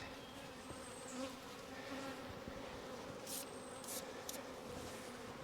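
Honey bees swarm around hive frames while honey is being pulled, a steady dense buzzing drone that holds close and continuous with a few brief higher rises.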